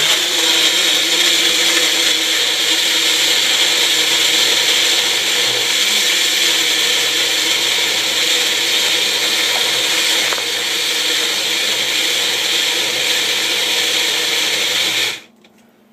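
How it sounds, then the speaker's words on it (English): A blender blending almond cheese with herbs whirs loudly and steadily at close range for a long stretch, its motor tone shifting slightly midway before it cuts off abruptly. "Throw it in the blender."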